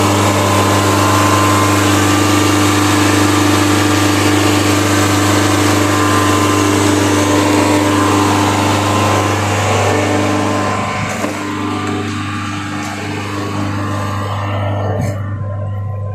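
A Tata Harrier diesel engine idles steadily during DPF regeneration, a constant low droning hum with a strong tonal drone, close and loud, easing slightly toward the end.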